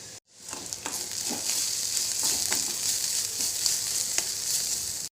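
Spice powders sauté in a hot pan for a dried fish fry, making a steady bright sizzle after a brief silence at the start, with soft stirring ticks scattered through it.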